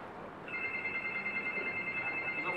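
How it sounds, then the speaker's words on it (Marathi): A telephone rings with a steady electronic tone that starts about half a second in and holds to the end, set against faint room background in a comic stage play. "तुझा फोन वाजतोय का?"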